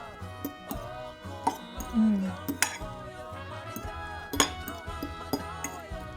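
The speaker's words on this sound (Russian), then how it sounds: "Берем вилочку и вот так все это вот так перемешиваем." A fork tosses a melon and burrata salad in a bowl, giving scattered light clinks and scrapes of metal on dish with a soft wet stir between them.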